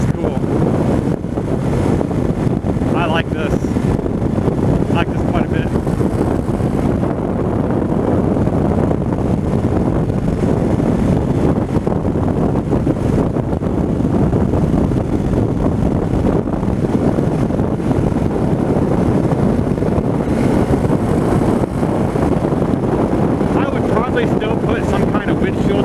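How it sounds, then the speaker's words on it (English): Steady, heavy wind buffeting roars into the microphone for nearly half a minute while riding a 2016 Harley-Davidson Fat Bob motorcycle, with the engine rumbling underneath and a rider's voice occasionally talking through the noise. "And there is some wind."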